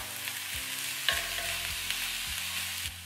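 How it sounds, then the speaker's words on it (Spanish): Onion softening over low heat for a chicken pastela, a soft steady sizzle with a low hum underneath and occasional light clicks of the spoon, close and uninterrupted. "vamos a estar pochando la cebolla hasta que la cebollita se vuelva transparente"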